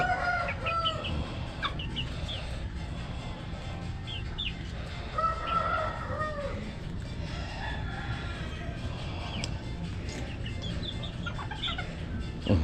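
Chickens in a coop cluck and crow at close to middle distance, with overlapping calls and rooster crows over a constant flock murmur and some faint background talk.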